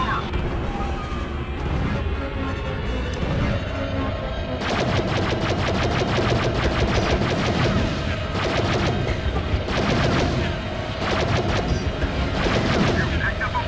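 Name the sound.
starfighter blaster fire in Star Wars Battlefront 2 video game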